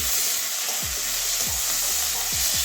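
Chopped tomato fries in a pan for an egg and pointed gourd (potol) dish, giving a steady, loud sizzle with soft scraping stirs recurring every second or so, no voices.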